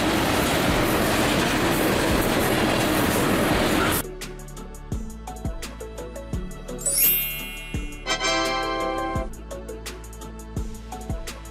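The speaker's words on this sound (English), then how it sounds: "Trains that transport oil, including specialized cars designed to carry crude oil or other petroleum products." Oil tank train rolling along rails, with a rushing roar that gives way to rhythmic wheel clacks over rail joints and high metallic squeals, passing close.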